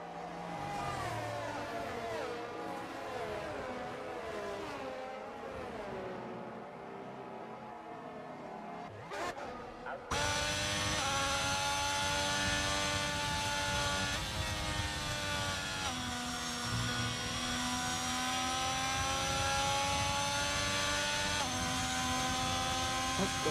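Race car engines from the F1 2022 video game at the Spa circuit drone loudly and steadily, their harmonic whine continuing throughout and shifting to a fuller, higher pitch partway through.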